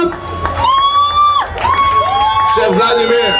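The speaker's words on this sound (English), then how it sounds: "Ladies and gentlemen, a big round of applause for the chef." An audience at an outdoor Haitian seafood cook-off cheers and whoops for the chef, with a crowd roar behind loud voices shouting over it throughout.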